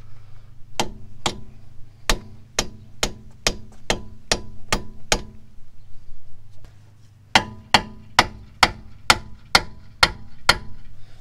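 Sharp hammer blows strike a stuck CV axle on a Honda Ridgeline, about a dozen evenly spaced metallic hits, a short pause, then another steady run of close, loud strikes with no talking.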